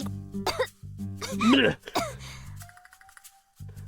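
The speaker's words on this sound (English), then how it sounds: "Taken by surprise, Nari spews out water like a fountain and starts violently coughing." A female character in the visual novel game Novena Diabolos coughs violently after spewing out water, giving a run of harsh, throaty bursts with rasping throat-clearing, loud and close, followed by a quieter stretch with a faint tone.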